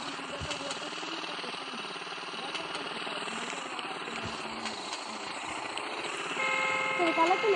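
A race bike engine in a video game drones steadily at a loud, even level, with a faint tonal layer above it, and swells slightly louder near the end.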